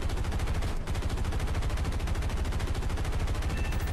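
Sustained rapid machine gun fire from an aircraft's wing gun array in the air combat game War Thunder, a loud, continuous stream of shots with one brief gap.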